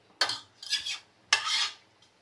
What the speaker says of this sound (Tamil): இப்போது இந்த கறியை வந்து மசாலாவோட சேர்த்து நல்லா மிக்ஸ் பண்ணி விட்டுக்கலாம்